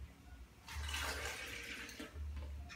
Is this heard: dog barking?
no